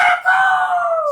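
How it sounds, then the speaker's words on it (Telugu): A rooster crows once, loud and close, a single drawn-out call that slides slowly downward and fills the whole moment on its own. "కోడి కూత"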